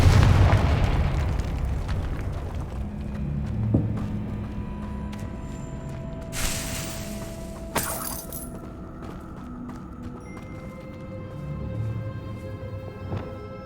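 Confringo fire-spell explosions in the Hogwarts Legacy video game, a loud booming blast at the start followed by several smaller bursts and rumbling impacts with a steady low background hum.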